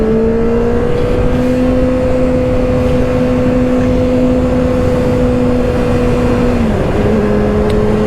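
A 2024 Kawasaki ZX-6R 636 sport motorcycle cruising on the road, its engine humming at a steady pitch with constant wind noise, then dipping as it shifts gear near the end, loud and close.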